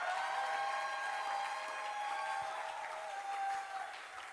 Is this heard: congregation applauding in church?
yes